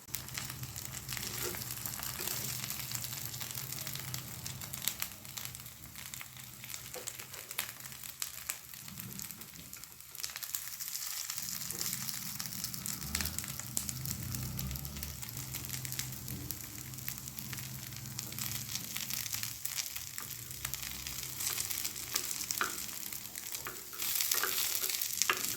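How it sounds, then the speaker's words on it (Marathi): Matar patties shallow frying in oil in a pan, a steady crackling sizzle that runs for about half a minute with occasional stirring or turning noises, close and moderately loud, with no voices. "आणि हे दोन्ही बाजूने आपल्याला खमंग शेकून घ्यायचे आहेत, तेलामध्ये फ्राय करून घ्यायचे आहेत, शालो फ्राय"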